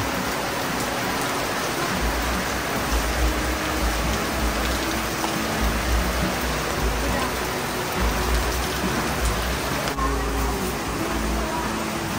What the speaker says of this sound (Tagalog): Lakas ng ulan na naman.